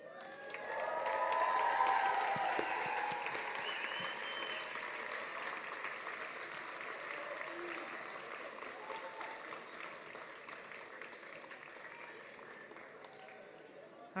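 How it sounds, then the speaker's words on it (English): A graduation audience at a Dubai ceremony breaks into loud applause, a dense wash of clapping that swells early then holds steady, with scattered cheers and voices mixed into the crowd. "give them the loudest round of applause"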